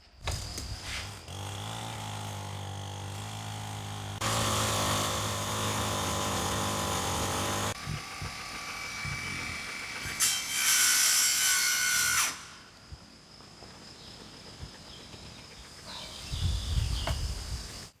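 Wood is sawn to trim a window frame in a nail-free log-style homestead build, with long steady strokes in several bursts separated by short pauses, loud and close, followed by quieter handling noises.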